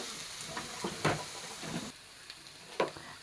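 Carrots and beans frying in a pan give a soft, close sizzle with light stirring scrapes and small pops scattered through a quiet hiss.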